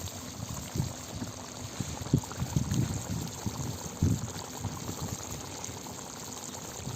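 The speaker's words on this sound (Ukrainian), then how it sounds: "Все булькотить, готується." A pot of Transcarpathian-style lecho with tomatoes, paprika and smoked sausage bubbles and simmers, a soft wet gurgling with irregular louder pops over a steady low hiss.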